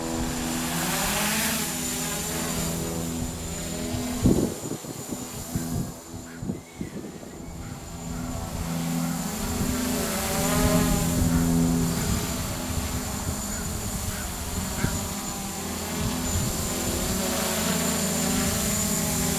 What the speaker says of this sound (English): We are going to take this brushless beast in the air and see what it can do.